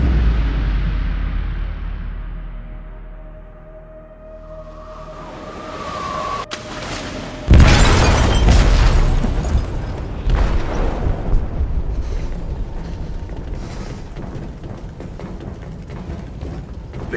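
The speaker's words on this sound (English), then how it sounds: "They detonated an explosive in the hold." An explosive detonating in a ship's hold in Detroit: Become Human: a low rumble gives way to a sudden loud boom, followed by sustained crashing, creaking and debris noise.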